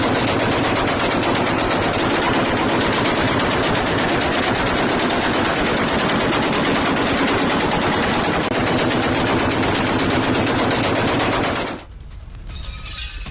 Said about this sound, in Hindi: लगातार दोनों तरफ से फायरिंग चल रही है